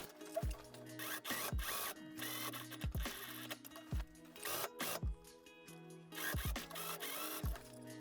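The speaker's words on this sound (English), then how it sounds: "And now I can sew the neckline all the way to the other center front and sew all the way to the edge." A sewing machine stitches the neckline of a dress in several short whirring runs with brief pauses between them, close and clear and with no talk.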